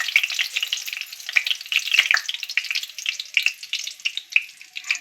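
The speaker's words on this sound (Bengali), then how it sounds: "ফোড়নে দিয়ে দেবো গোটা গরম মশলা, তেজপাতা, শুকনো লঙ্কা" Whole garam masala, bay leaf and dried chilli frying in hot oil, a lively crackling sizzle with irregular spits and pops, close and continuous, no speech.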